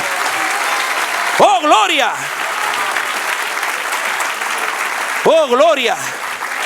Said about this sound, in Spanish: Den un aplauso al que vive.